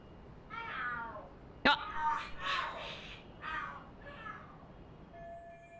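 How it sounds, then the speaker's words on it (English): Cats yowl and screech in a rising, squabbling exchange in the video game Lost Judgment, with one sharp crack midway and several drawn-out wails before a faint electronic tone. "Oh, are there cats fighting?"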